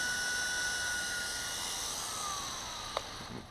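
A Blade 200 SR X RC helicopter comes in to land with a high, steady rotor and motor whine that eases slightly, followed by a brief tap near the end.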